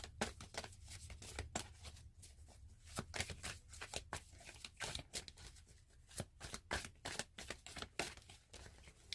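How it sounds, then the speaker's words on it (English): Tarot cards shuffled by hand, repeated crisp riffling and slapping bursts in an irregular rhythm, close and fairly quiet, with no talking. "I'm gratitude to anyone bearing with me for this shuffle"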